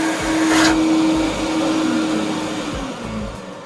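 A professional carpet cleaning machine's vacuum motor runs steadily, a loud continuous rushing whoosh with a faint underlying hum that holds level from start to finish, with no voices.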